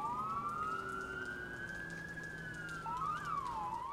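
Police car siren wailing in the Watch Dogs video game, a steady rising and falling tone held loud and close throughout, with a second siren sweep joining near the end over low traffic rumble.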